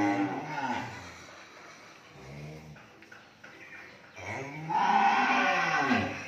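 Cattle at a cattle farm moo loudly and close by, with long drawn-out calls at the start and a strong bellow near the end, birds chirping faintly in the background.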